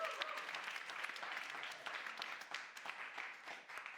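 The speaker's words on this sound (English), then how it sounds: "Can I hear a massive round of applause from Chapel FM?" A studio audience at a community radio music marathon applauds a choir, a fairly quiet, continuous patter of clapping with no talk over it.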